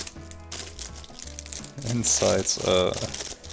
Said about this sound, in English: a plastic bag, so let's just make a cut here and separate them.